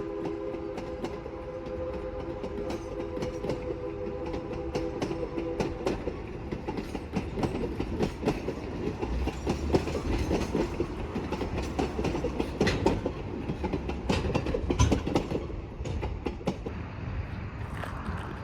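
The Durango Silverton tourist train rumbles and clatters past on the rails through town nearby, steady and loud, with a brief horn tone early on.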